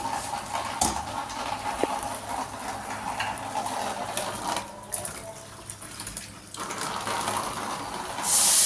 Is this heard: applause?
no